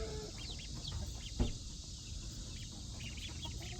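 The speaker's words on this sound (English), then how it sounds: "these are the 4 ducklings and the 4 Isa Browns" Small Isa Brown chicks and ducklings chirp and peep in an outdoor brooder, a steady chatter of faint high calls over low background noise, with one brief louder knock partway through.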